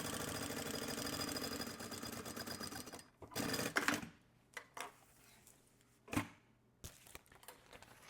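A sewing machine runs steadily for about three seconds while topstitching a fabric lining, then gives a few short bursts of stitching between quieter handling noises.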